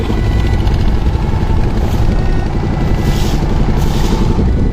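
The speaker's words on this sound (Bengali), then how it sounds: "দেখতে পাচ্ছেন গাইজ কত বড় ট্রলার" A large wooden trawler boat's engine drones steadily and loud on open haor floodwater in rural Bangladesh, a continuous low rumbling chug with no pauses.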